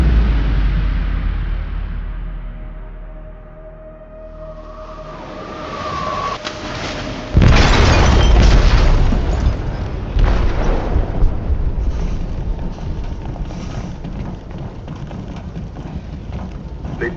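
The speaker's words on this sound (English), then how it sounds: "They detonated an explosive in the hold." A heavy explosion rips through a ship's hold in a Detroit: Become Human scene: a low rumbling build gives way to a sudden loud blast, followed by a long roaring wash of debris and rushing water.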